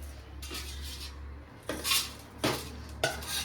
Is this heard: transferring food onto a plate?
yes